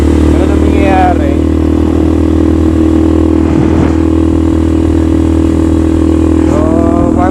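A Bajaj Xplorer 250 sportbike engine idles while warming up with a steady, loud hum, close by, with a few brief revs and a voice speaking over it.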